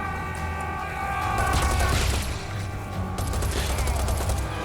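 Gunfire in the video game Serious Sam 4, a loud, sustained burst of rapid shots with mechanical clatter and low booms, continuous and close throughout.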